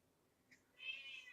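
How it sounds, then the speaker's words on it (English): A house cat gives a faint, short meow, close by in a quiet room, alone with no talk. "that's my cat."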